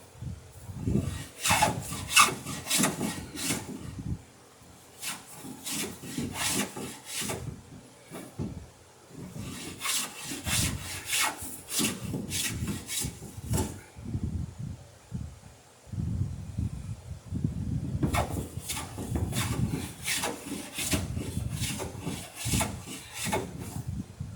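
A wooden sailing dory hull is cut by hand along its bottom bevel, with bursts of rhythmic rasping, sawing strokes separated by short pauses, close and fairly loud.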